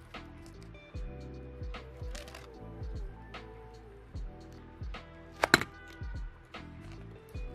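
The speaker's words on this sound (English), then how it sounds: "So we're gonna peel this with our hands." An adhesive patch is peeled by hand off leatherette in a series of close, sticky crackling tears and soft ripping bursts, with a sharper snap near the end and quiet gaps between pulls.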